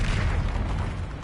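Hogwarts Legacy spell blast, Confringo or Repulsor, a dense booming burst with deep low rumble that stays loud and sustained for over a second without any voices.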